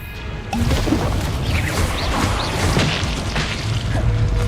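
Blasts of the Confringo spell in the video game Hogwarts Legacy, a loud booming and crashing onset that keeps rumbling through busy battle noise with whooshes and thwacks, with no voices.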